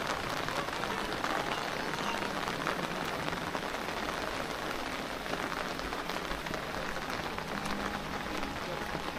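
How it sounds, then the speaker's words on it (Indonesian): Steady rain pours down in a village, a dense continuous hiss of drops pattering on surfaces close by, loud and unbroken throughout with no voices. "ingin merasakan suasana hujan di kampung Babakan Limus ini"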